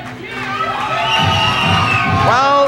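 A crowd at a 1996 professional wrestling show in Embrum, Ontario cheers loudly and steadily, with high-pitched shouts and whoops, children among them, rising toward the end.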